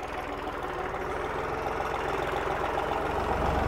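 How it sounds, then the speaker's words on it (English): A tractor engine runs at a steady idle, its low, rhythmic knocking chug constant and fairly close throughout, with no voices. "he's getting on the tractor"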